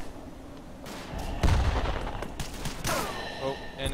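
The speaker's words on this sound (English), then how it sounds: "When I get closer, I can throw a grenade." Battlefield gunfire and blasts in the Verdun video game, where a grenade is thrown, with a dense, continuous rumble of shots and a heavier boom near the middle, no talking.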